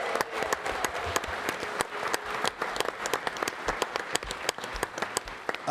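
A studio audience applauds steadily, dense clapping holding throughout without a break or swell, close and clear with no one talking over it.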